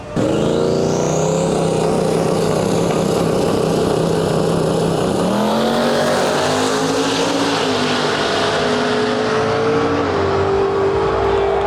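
Drag racing cars at a Texas race event roar loudly off the line, engines screaming and rising in pitch through several gear changes as they run down the strip, with one car, a Cutlass, in the left lane.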